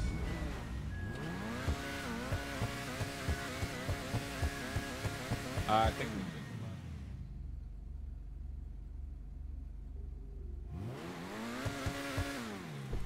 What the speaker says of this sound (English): We're just going to be revving all of our cars.